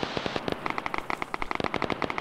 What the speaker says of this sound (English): Is that shots from the northwest?